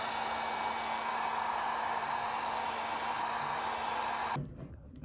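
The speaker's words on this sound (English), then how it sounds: "using the heat gun to heat it up first" A heat gun blows with a loud, steady hiss and hum against a truck panel, then cuts off abruptly just before the end.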